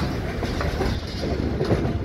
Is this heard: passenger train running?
yes